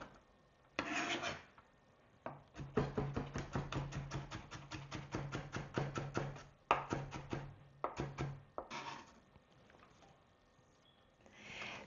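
A knife chops an onion on a cutting board in a quick run of about two dozen steady, close thuds, with a few slower cuts before and after and no talking.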